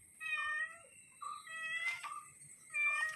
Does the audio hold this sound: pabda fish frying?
no